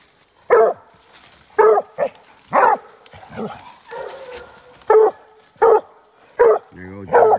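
Hound puppies and big dogs bark while playing, a series of sharp, loud barks and yips at irregular intervals, close by, with a brief whimper between them.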